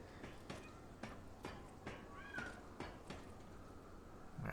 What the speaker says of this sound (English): I heard like a cat or something.